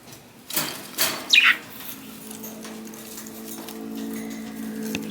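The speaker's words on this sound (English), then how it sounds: "Our budgies." Rescued pet budgies flap their wings in a few quick bursts with a brief chirp, fairly close, followed by a low, steady indoor hum.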